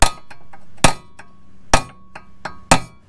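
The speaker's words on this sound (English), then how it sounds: "it gives me better access to swinging at this bolt here, hopefully" A hammer strikes a bolt on a car during suspension work, four hard metallic whacks spaced about a second apart with lighter taps and clinks between, close and ringing.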